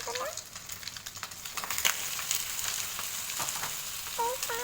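Soaked bread slices frying in a pan, a steady close sizzle with light crackles and occasional stirring or scraping touches.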